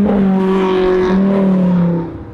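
A car engine climbing a hill on a winter drive, loud and close, with a sustained droning tone that holds steady and then fades slightly at the end.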